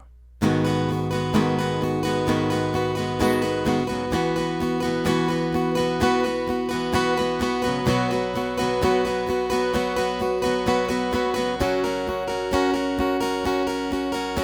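Acoustic guitar strummed through the bridge chords of a worship song, a steady rhythmic pattern of full ringing chords played close and clear, with no voice over it.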